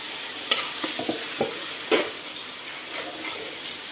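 Prawns for chili prawns fry in a hot pan with a steady, close sizzle while a utensil stirs them, scraping and clinking against the pan in short bursts.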